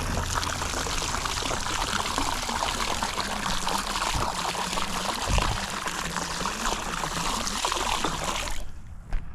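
A gallon of chlorine poured into a swimming pool, a loud continuous splashing pour and trickle that runs steadily for about eight seconds, then cuts off abruptly.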